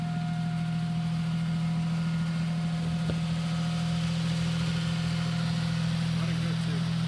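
A DeLorean, a modified flying-car build, idling steadily with a low continuous engine hum throughout, while someone talks nearby.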